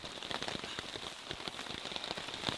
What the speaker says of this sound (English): Is this rain harder than a lot of rain we've dealt with?